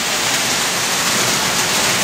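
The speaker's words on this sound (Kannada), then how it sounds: "ಗಾಳಿ ಮಳೆ ಸಿಡಿಲು ಅಂದರೆ ಬೂಚಿಗೆ ತುಂಬ ಭಯ." Heavy rain and wind in Udupi during a dark, stormy morning, a dense, steady hiss of downpour filling the whole moment without pause.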